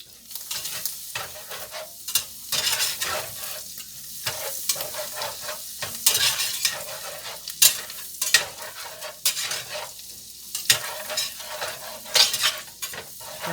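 A roux of fat and flour being stirred in a pan with browned crispy bits, repeated rhythmic scraping strokes over a soft sizzle, close and moderately loud with no talk.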